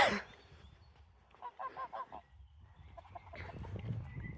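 Farm geese give a short run of four or five honks at moderate distance, followed by softer fowl calls and rustling in a quiet outdoor setting.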